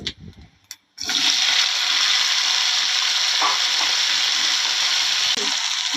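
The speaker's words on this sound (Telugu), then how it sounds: "నాలుగు ఎండుమిర్చి వేస్తున్నాను ఇప్పుడు కడిగి పెట్టుకున్నాం నల్లేరుగాడి ముక్కలు వేద్దాం" Washed nalleru (veldt grape) stalk pieces drop into hot oil with dried red chillies, and a loud, steady, close sizzle erupts after a few faint clinks and keeps hissing without a break.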